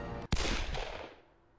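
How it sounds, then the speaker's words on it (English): A single pistol shot rings out in the Hakuoki video game, one sharp loud crack followed by a long fading echo and reverberant tail, with no voices. "a pistol rattled off somewhere in the distance."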